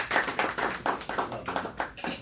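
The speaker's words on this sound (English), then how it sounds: "Please, a round of applause." Small audience giving a round of applause at a business talk, a few people clapping in a rhythmic, fairly close patter.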